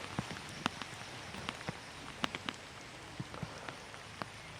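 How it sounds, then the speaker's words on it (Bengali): Rain falling steadily over a wetland during a fishing outing, a soft continuous hiss with scattered sharper drop impacts, fairly faint and with no voices. "তো বৃষ্টি যখন শুরু হয়েছে"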